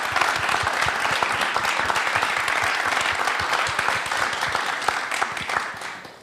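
A gospel programme audience acclaims the Lord for the team with a dense, sustained round of applause. Many hands clap loudly and continuously, fading slightly at the end.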